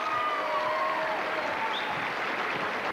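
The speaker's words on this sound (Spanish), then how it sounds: "un aplauso a todas las señoritas que están sobre el escenario" Crowd at the Miss Hispanidad International 1990 beauty pageant applauds the contestants onstage, a sustained wash of clapping with a few whistles and cheers, moderately loud and steady for the whole stretch.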